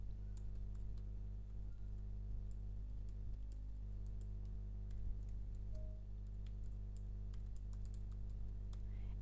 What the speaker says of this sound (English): Just type in their email address.